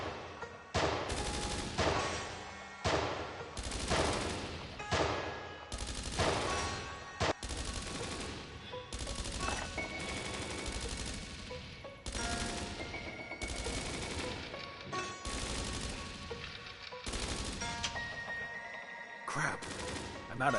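Rapid automatic gunfire in the VR video game Dreams of Another, sustained close bursts of loud shots rattling almost continuously, with brief pauses.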